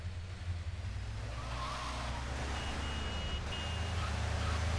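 A car in Grand Theft Auto III drives with a steady, loud engine drone and road rumble that stay constant throughout, with a faint tonal beep partway through.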